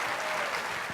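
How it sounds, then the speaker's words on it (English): An audience at a film screening applauds the departing speakers with steady, dense clapping that fills the whole moment and has no voices over it. "why don't we give them a final round of applause before they go"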